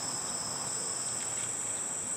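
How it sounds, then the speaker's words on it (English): Continuous high-pitched buzzing of cone-nosed katydids holds steady throughout, a dense unbroken drone over a quiet outdoor background in early July. "singing alongside cone-nosed katydids in early July"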